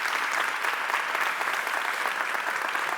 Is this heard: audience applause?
yes